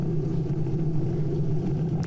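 A TOSEVEN DM01 mid-drive motor on a DIY ebike runs on throttle while riding slightly downhill, giving a steady low hum and rumble with some wind, no voices.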